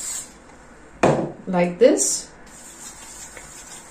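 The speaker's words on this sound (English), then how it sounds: "And then I just spray a little onto here," Hair spray misted from an aerosol can onto hair in brief hissing bursts, close by and mixed with someone talking.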